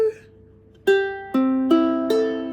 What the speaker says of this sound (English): And if your ukulele sounds like this